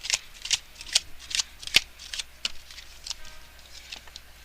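Tarot cards are shuffled and drawn close up, a quick series of crisp riffling snaps and soft slaps in an uneven rhythm, with no talking over them.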